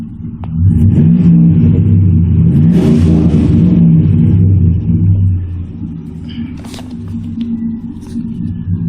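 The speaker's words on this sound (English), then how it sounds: "the sound of the exhaust when it's revved" A truck with a 4.8 liter V8 barks through its exhaust as it is revved, a loud deep rumble rising and falling close by for several seconds before settling back to a lower, steady idle.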